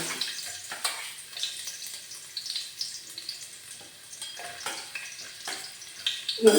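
Ginger and garlic frying in a pan for a Kottayam-style fish curry, a soft, thin sizzle with scattered clicks and stirring knocks, fairly close but quiet, with a louder clatter near the end.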